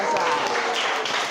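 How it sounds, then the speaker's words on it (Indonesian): Classroom applause from students, a steady, close burst of clapping mixed with voices that holds at full loudness throughout. "Tepuk tangan, luar biasa."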